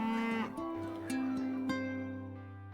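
Cattle moo in long drawn-out calls in a Devondale milk advertisement, a clear close lowing that overlaps a second cow, fairly quiet overall.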